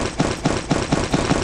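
Rapid gunfire from a weapon in the video game Free Fire, about six sharp shots in quick even succession, loud and close with no talk over them.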